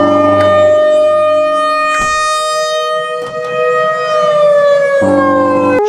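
Siren in the Roblox game School 23 RP, a loud sustained wailing tone with rich harmonics that dips briefly around the middle and swells again, steady and alone without voices.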